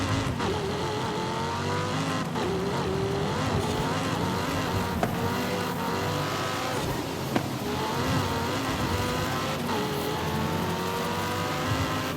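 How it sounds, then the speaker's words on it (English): Loud Mercedes car engines roaring in the street-racing video game Night-Runners, sustained revving and accelerating with shifting engine tones and occasional tire squeal, continuous and close. "Not to mention the obnoxiously loud cars driving around."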